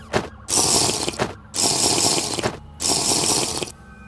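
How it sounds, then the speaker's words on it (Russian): Three drinking gulps from a water bottle in the Minecraft video game, each burst of bright sloshing liquid lasting about a second with short silent gaps between, loud and close. "Пожалуй, я немного воды выпью."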